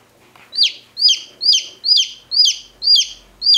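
A newly hatched chick with a hen, giving loud, close, high peeps repeated evenly about every half second against a quiet background.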